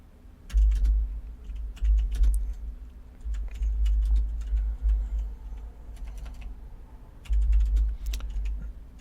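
Steady bursts of computer keyboard typing, rapid clicking keystrokes close by, pausing briefly between runs, no talking.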